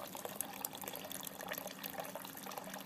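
Beer wort running out of a brewing vessel into a container, a continuous splashing pour with steady trickling, close and alone.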